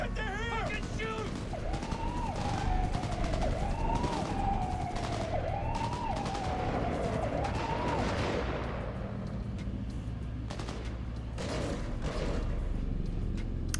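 A shootout in Cyberpunk 2077: Phantom Liberty, with a wailing police-style siren rising and falling through the first half, then sharp scattered gunshots, under frequent shouting voices.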